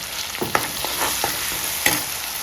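Garlic and turmeric sizzle in hot oil as a spoon stirs and scrapes the pan with irregular clicks, a steady close frying hiss running throughout with no voices.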